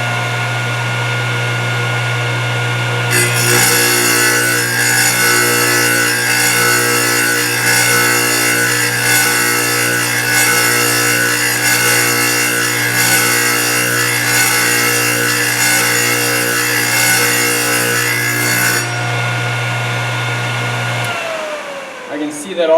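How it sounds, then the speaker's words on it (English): A Thorvie AV-40 sharpening machine runs with a steady motor hum as a meat slicer blade is ground against it, a bright, sustained grinding layer starting a few seconds in and stopping before the motor winds down. "That's all it takes to sharpen up a meat slicer blade"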